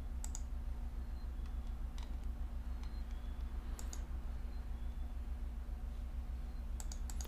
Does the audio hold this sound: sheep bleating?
no